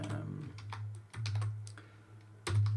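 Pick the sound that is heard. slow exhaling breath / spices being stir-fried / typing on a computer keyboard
typing on a computer keyboard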